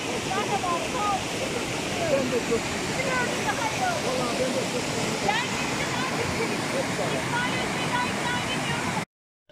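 Waterfall at Suçlu Şelalesi on a hiking trail, with a steady, loud rush of falling water filling the scene continuously for about nine seconds before cutting off abruptly.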